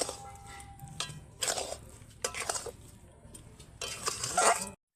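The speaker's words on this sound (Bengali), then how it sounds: "কড়াইতে নাড়তে নাড়তে খুব সুন্দর একটা ডোয়ের আকার নিয়েছে দেখুন" A semolina and milk powder dough is stirred in a wok, giving intermittent close scraping and clattering strokes of a spoon against the metal pan, soft between strokes.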